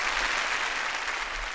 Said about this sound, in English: So a huge round of applause, please, for these wonderful human beings.